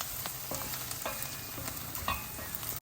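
Onions and spinach fry in a pan for palak paneer, a dense continuous sizzle close up, broken by repeated scraping stirs of a spatula, with no one talking.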